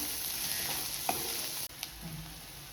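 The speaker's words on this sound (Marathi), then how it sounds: "असा कांदा चांगला लालसर होईपर्यंत आणि लसूण खोबरं चांगलं खमंग आपलं परतेपर्यंत आपण हा आता परतत राहायचंय." Onion, garlic and coconut sauté in a pan with a soft, steady sizzle, plus a couple of light spoon taps and a brief scrape near the end, close and fairly quiet.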